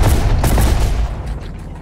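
Gunfire from Terminator: Dark Fate - Defiance, a strategy game, sounding as a dense, loud burst of shots and booms that thins into fainter distant firing toward the end, with no voices.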